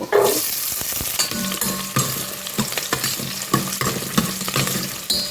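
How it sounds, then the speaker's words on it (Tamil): Small shallots fry in sesame oil for an egg curry, a close continuous sizzle broken by spoon scrapes and stirring knocks against the pan, with no talking. "வெங்காயம் நல்லா செவந்து வரட்டும் பாருங்க"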